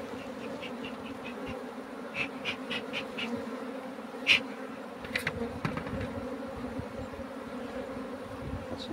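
Honeybees hum and buzz steadily around an opened hive during a spring colony split, with occasional louder individual bees passing close and a few faint knocks, no talk.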